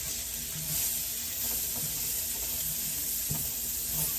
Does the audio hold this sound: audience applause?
no